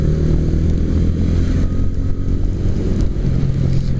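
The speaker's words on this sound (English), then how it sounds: "throaty bass kind of exhaust to it. Nothing like what you'd hear on other motorcycles in this category" A TVS Ronin motorcycle rumbles with a deep, throaty bass exhaust note during a ride, steady and close throughout with slight rises and dips in engine pitch.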